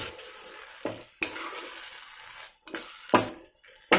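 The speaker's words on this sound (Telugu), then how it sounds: "బాగా కలుపుకోండి" A spoon scrapes and stirs dried prawn and gongura curry in a metal pan, a few distinct clanks and scraping strokes with soft sizzling between them, close and clear.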